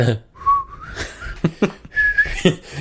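A person whistles a few short tonal phrases, fairly close, with brief pauses and some low background noise.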